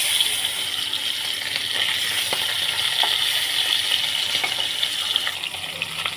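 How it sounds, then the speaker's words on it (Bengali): Hilsa fish pieces frying in hot mustard oil with nigella seeds, a steady, close hiss of sizzling oil with faint crackles and small pops throughout, no voices. "দেখুন ইলিশ মাছের এক সাইড ভাজা হয়ে গেছে"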